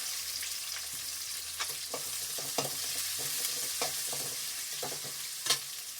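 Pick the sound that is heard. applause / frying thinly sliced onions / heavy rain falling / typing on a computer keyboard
frying thinly sliced onions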